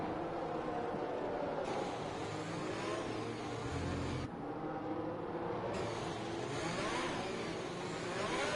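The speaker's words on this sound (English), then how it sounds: "You hear Yogurt planting the throttle because it's very important, especially in the restart" Open-wheel F1 racing car engine from a video game at Abu Dhabi, revving hard and continuously as the throttle is planted on a restart, a loud sustained roar with shifting pitch throughout.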